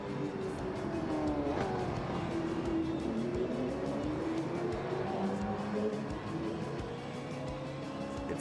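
A flat-12 racing car with an 8-speed gearbox drones steadily through a sim-racing game, its pitch rising and falling through gear changes in a continuous loud engine note.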